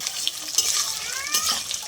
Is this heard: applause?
no